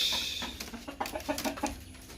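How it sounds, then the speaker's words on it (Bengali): A seven-to-eight-month-old multi-coloured, naked-neck native hill rooster gives a short series of close, soft clucks in a quiet setting. "আমার সামনে যে মোরগটা দেখছেন এটা হচ্ছে একটা গলাশিলা পাহাড়ি দেশি মোরগ"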